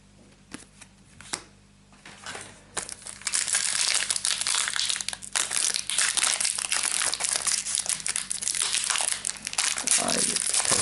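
A Lightseekers Awakening card booster pack being torn open and crumpled, a few sharp rips at first giving way to sustained loud, close crinkling and crushing of foil wrapper.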